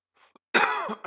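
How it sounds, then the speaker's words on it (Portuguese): A harsh, close cough bursts out after a couple of faint throat noises, followed by a second short cough at the end. "peço desculpa pela tosse"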